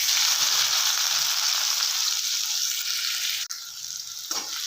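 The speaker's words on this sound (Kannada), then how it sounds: "ಚೆನ್ನಾಗಿ ಹುರ್ಕೊಳ್ಳೋಣ." Chopped onions frying in hot oil with mustard seeds and curry leaves for vermicelli upma, a steady close sizzle throughout with a brief stir near the end.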